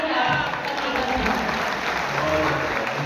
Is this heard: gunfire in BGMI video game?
no